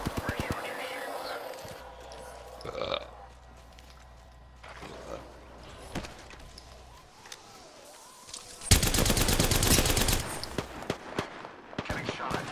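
Apex Legends gunfire comes as rapid automatic bursts and single shots, with one loud, dense volley near the end, mixed with faint in-game voices and movement sounds.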